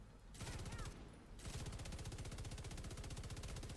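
Rapid automatic gunfire in The Division 2 rattles on almost continuously in fast, even bursts, loud and dense, with one short gap near the start.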